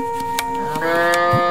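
A cow on an Indian street gives a long, loud, nearby moo that swells slightly as it goes, heard on its own without talk.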